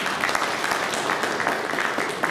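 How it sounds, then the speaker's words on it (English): Steady applause from a seated audience at a press meet for the Darjeeling Hill Marathon 2021, a dense even patter of many hands filling the room, close and continuous with no pause. "Can I have a big round of applause for all of you who are here?"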